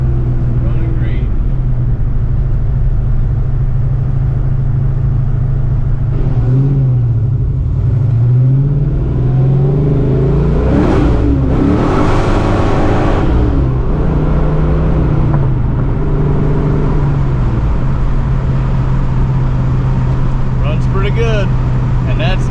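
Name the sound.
1987 Saleen with 347 engine revving at part throttle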